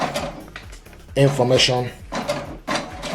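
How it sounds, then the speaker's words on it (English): An HP Deskjet 2700 inkjet printer prints a page with mechanical clicks and a rhythmic feeding whir, close by, while someone talks over it. "what it's going to do now is going to print the wireless"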